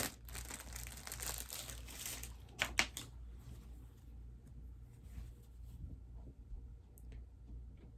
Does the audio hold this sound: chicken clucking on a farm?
no